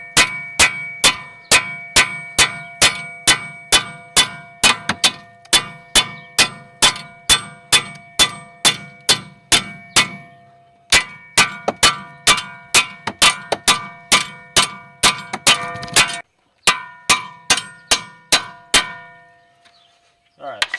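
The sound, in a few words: ball joint bolts being knocked loose on a Pontiac G6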